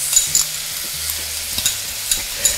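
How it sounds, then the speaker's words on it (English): Stir fry sauce sizzles on a CalmDo multifunction electric grill, with a steady crackling fry and a few sharp scraping stirs of a utensil against the hot surface, close and clear with no talking. "So now I'm just going to add the sauce. Stir fry sauce."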